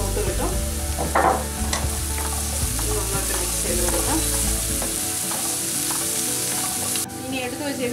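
Chopped onion with salt fries in a pan for a Kottayam-style fish curry, a loud steady sizzle up close with a spatula stirring and scraping throughout, the low rumble dropping partway through; no voices.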